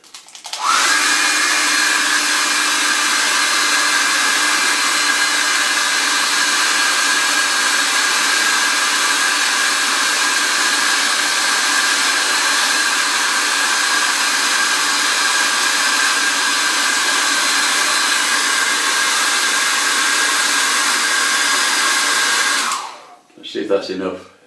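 A hair dryer blows steadily on a watercolour painting, a loud continuous whir running for over twenty seconds alone before switching off near the end.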